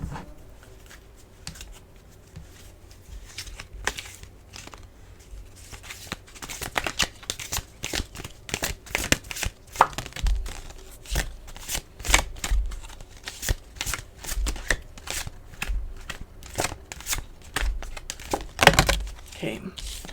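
Tarot cards shuffled and pulled close by: soft riffling and flicking of card stock with irregular taps and slaps that grow busier, while a person speaks quietly.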